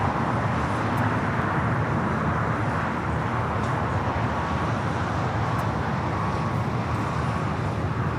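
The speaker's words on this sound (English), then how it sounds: "we have American Airlines Flight 27 cleared for takeoff." An American Airlines 787-9 Dreamliner taking off from LAX gives a broad, steady jet roar that stays loud and constant throughout, with no voices over it.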